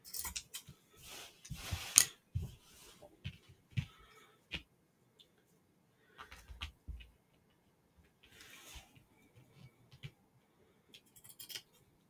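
Scissors snip freehand through a paper template in short bursts of clipped cuts separated by pauses, close and fairly quiet, with no voices.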